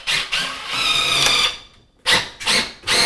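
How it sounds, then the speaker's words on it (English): A power drill drives a screw through a cabinet into a wall stud, with short whirring bursts up close, one longer run and then three quick pulses after a pause. "We can put a screw in the stud."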